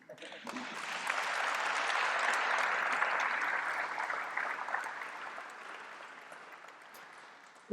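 Applause from a concert audience after a chamber music evening, a dense wash of clapping that swells, holds steady and slowly thins toward the end, with no talk over it.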